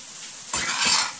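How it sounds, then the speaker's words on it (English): Ackee and saltfish fried rice stirred in a pan: a sudden sizzling rush with a light scrape of the utensil, close and brief, with no talk. "stirring this around. And it's an ackee and saltfish fried rice, guys."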